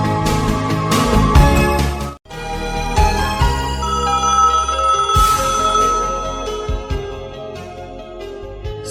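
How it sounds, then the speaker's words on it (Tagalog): A telephone rings in loud, repeated electronic bursts with a short break partway through. "Salbag day ta telepono."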